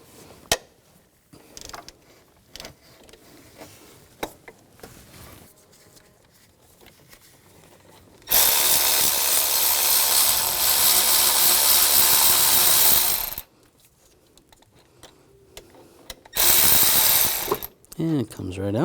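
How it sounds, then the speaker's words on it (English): Ratchet wrench with a 16mm socket turning the accessory drive belt tensioner bolt on a 2000–2006 BMW X5 3.0L inline-six, loud bursts of rapid clicking in a couple of stretches with quieter handling noises between. "Using a 16mm socket, you want to loosen the bolt."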